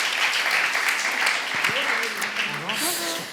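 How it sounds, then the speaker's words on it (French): An audience at the Normandy World Forum for Peace applauds steadily in a conference hall as a guest comes on stage, with a presenter's voice speaking over the clapping in the second half. "On l'applaudit."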